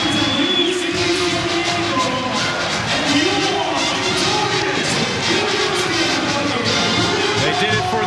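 Sellout crowd cheering at a Hawaii vs UC San Diego senior night game, a loud sustained roar of voices with shouts and whoops rising over a continuous wash of arena noise.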